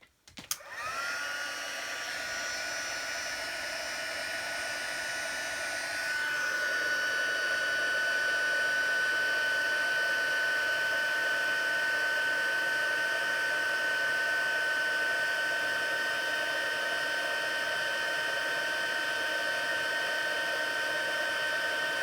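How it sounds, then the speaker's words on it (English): An embossing heat tool blowing hot air over a card, a steady close whirring hum that rises slightly in pitch partway through and runs alone without talk. "And I just get my heat tool heated up."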